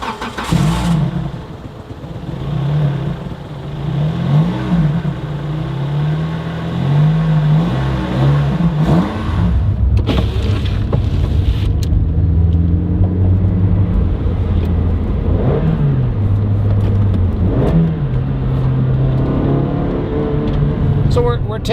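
A Toyota Matrix XRS with a 1.8-liter four-cylinder engine and six-speed transmission drives along, its engine revving up and dropping through gear changes over steady road and cabin noise, with people talking over it.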